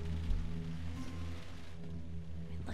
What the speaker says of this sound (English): Oh, look at how the rain washes over the window.